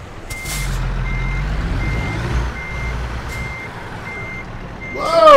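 Intermittent reversing beeps from a truck in American Truck Simulator, a steady tone pulsing at regular intervals over a low engine rumble, with a rising whoosh near the end.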